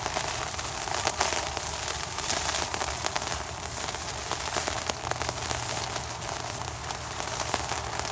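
Steady rain drums on a tent during a stormy day of packing up camp near Astoria, a dense continuous patter of drops close by with no talk over it.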